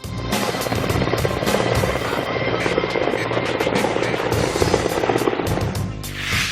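An Indian Air Force helicopter's rotor thumps loudly and steadily nearby, with a dense roar that eases briefly near the end.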